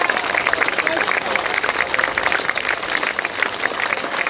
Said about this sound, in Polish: Paweł, brawa dla ciebie.